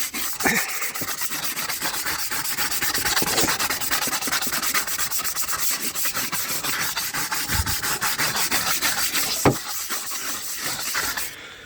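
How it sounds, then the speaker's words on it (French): A hard-bristled brush scrubs a slate surface in a continuous, close, rasping rub, with steady strokes lasting the whole stretch and occasional sharper scrapes. "on doit prendre la brosse après. La brosse dure. Passer comme ça."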